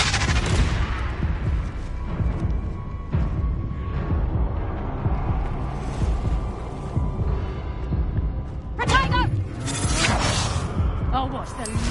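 Confringo spell blasts in the Hogwarts Legacy video game, dense booming and crackling impacts over continuous rumbling combat noise, with a sharper burst of crackles near the end and a voice speaking over parts of it.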